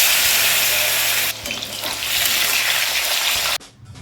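Chicken pakoras fry in hot oil with a loud, dense, close sizzle throughout, briefly dipping midway and dropping off sharply near the end.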